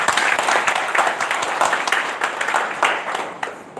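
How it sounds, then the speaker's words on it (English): Applause from a crowd at an outdoor gathering, dense steady clapping that carries on throughout and tapers slightly at the end. "Let's give another applause."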